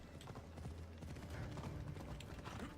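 Horse gallops in the video game Assassin's Creed Odyssey, a steady, fairly loud clip-clop of hooves with faint mechanical rattles over low ambient game sound.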